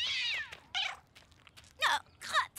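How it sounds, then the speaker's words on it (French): A cat meows several times close by, with a few drawn-out, wavering calls separated by short pauses, heard alone without any talk. "il y a un chat sur le parcours"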